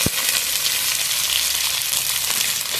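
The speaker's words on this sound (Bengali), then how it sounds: "আদা রসুনটা একটু ভেজে নেবো" Ground ginger and garlic paste frying in a hot pan makes a loud, dense, continuous sizzle with a crackling hiss from start to finish; no one speaks.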